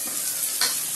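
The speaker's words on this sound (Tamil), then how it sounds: "அந்த தக்காளியை போட்டு நல்லா வதக்குறோம்" Chopped tomatoes with onions sauté for chicken kulambu, giving a soft continuous sizzle in the pan with a brief stirring scrape partway through.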